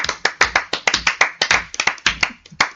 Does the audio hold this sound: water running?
no